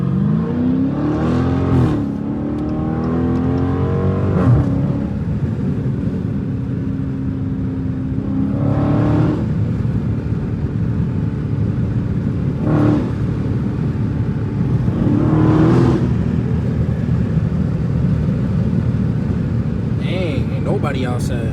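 A straight-piped Dodge Challenger Scat Pack drones loudly from inside the car while driving, with several sharp rev spikes and shifts standing out over a steady low exhaust rumble; a person talks at times over it.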